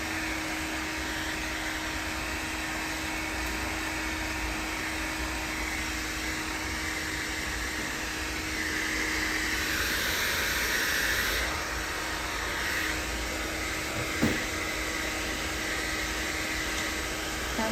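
A hair dryer blow-dries hair with a round brush, its continuous airy roar steady and close throughout, with brush movements shifting the tone slightly and no talk.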